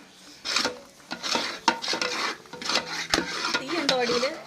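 Cousins take turns stirring thick jackfruit halwa in a pan, a close, rough scraping and rasping of the spoon against the pan in repeated strokes, with short clinks of utensils in between.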